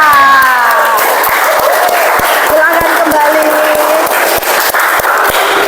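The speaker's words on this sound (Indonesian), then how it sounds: "kita tepuk tangan yang meriah untuk Sherila" Loud, close applause from a classroom of students clapping for a classmate, a sustained roar of hands with some regular individual claps standing out, while a teacher speaks briefly over it.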